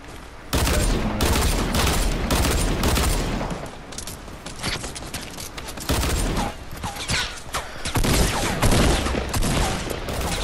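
Rapid bursts of bullet gunfire from a Fortnite Battle Royale match, loud and dense, with clustered shots running nearly the whole time and brief lulls between volleys.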